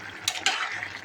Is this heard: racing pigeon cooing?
no